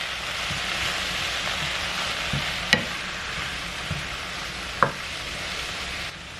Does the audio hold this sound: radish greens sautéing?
yes